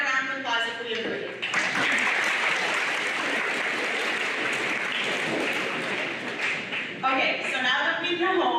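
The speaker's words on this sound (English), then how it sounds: "And can I get a round of applause if we agree?" A burst of crowd applause at a high school Veterans Day program swells in and holds for several seconds, loud and dense, with talking heard just before and after it.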